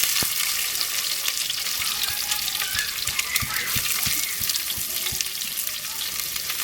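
Onion frying in hot oil with cumin and mustard seeds, a steady bright sizzle with scattered pops and occasional low knocks of stirring, close and continuous without talking.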